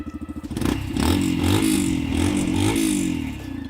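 A Yamaha FZ X 150cc motorcycle fires up and settles into a steady, throbbing exhaust note, loud and close with slight rises in revs.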